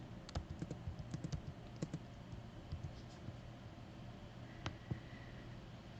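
Typing on a computer keyboard comes through as a few scattered, quiet key clicks in short bursts over a steady low room hum.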